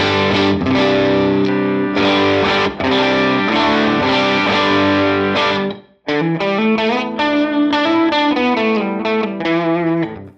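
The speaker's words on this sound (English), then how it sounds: "Clean tone sounds like this." Electric guitar playing chords in a clean tone with a slight shimmering effect, steady and close, a brief pause midway, no voices.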